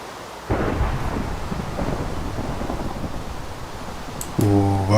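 Rolling thunder from a lightning storm in Minecraft rumbles loud and continuous for several seconds, ending in a sharper, tonal crack-like burst.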